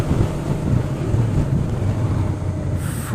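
Loud, steady wind roar buffets the microphone on a motorcycle cruising at 60, a dense continuous rumble with no talk over it.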